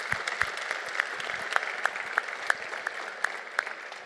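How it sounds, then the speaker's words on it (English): An audience at an Urban Future Week event at the Museum of the Future applauds, a steady patter of claps from a moderate crowd heard at some distance. "So a big round of applause to the team for"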